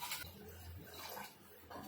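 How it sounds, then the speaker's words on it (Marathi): Water poured from a cup onto dry rice in a cooking pot, a short, quiet splashing gush that trails off into soft trickling in an indoor kitchen. "मी इथे तांदळाला दीड पेला पाणी टाकलेलं आहे"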